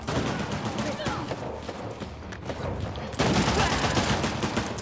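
Heavy shotgun blasts and gunfire in the video game Uncharted: The Lost Legacy, loud booming shots amid a chaotic firefight with voices in the mix, growing louder near the end.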